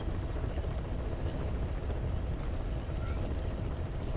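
Helicopter in Metal Gear Solid 5: a continuous close rotor roar with dense low-frequency rumble, steady throughout, with faint electronic blips near the end and no speech.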